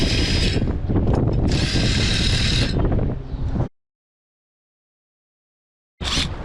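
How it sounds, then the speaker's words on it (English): A ratchet tool adjusts the clamp on a MikroBench bench, giving dense, loud mechanical clicking and whirring up close for about three and a half seconds, then silence before a brief burst resumes. "Adjust the clamp to whatever the size of the piece is going to be."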